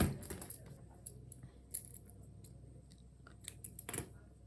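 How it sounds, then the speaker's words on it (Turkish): Scissors snip through green yarn in a run of small, sharp, close cuts with light clicks, quiet between them and no talking. "Şimdi ben bu yeşil ipimi kesiyorum."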